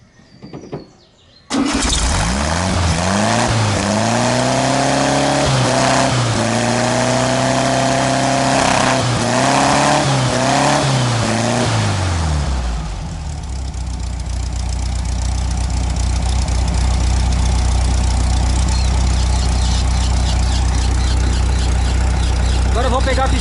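A car engine cranks and catches after a rough ignition timing advance, running unevenly with rhythmic surges before settling into a loud, steady idle close to the listener.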